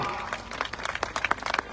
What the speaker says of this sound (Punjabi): ਠੋਕੇ ਮਾਰੋ ਤਾੜੀ